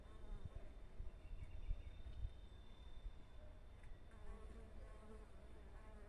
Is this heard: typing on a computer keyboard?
no